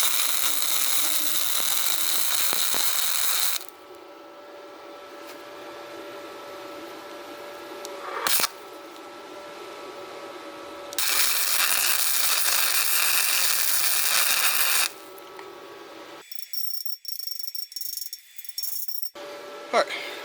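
A YESWELDER Flux135 flux-core welder lays beads on a rental trailer, with bursts of loud crackling hiss in two long stretches separated by quieter pauses and some clanking near the end.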